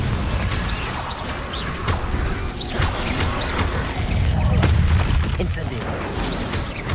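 Repeated spell blasts and bursts of crashing impacts from Confringo casting in Hogwarts Legacy, a battle full of booms and creaks with a voice calling out under the din.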